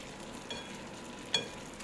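Pasta and vegetables are stirred in a pan over a soft, constant sizzle, with two faint scrapes of the utensil, one of them sharper, close but quiet, and nobody talking.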